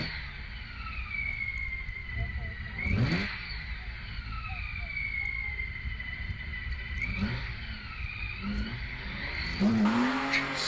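A Reliance Scimitar Coupe launches up the Prescott hillclimb at a historic event, its engine revving hard through gear changes with a tire squeal, heard from trackside and growing louder near the end.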